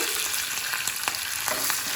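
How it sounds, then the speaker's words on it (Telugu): Tempering sizzles and fries in a pan, a continuous bright hiss with a few soft stirring scrapes, close and alone with no voices. "తాలింపు అయితే మంచిగా మొక్కుతుంది"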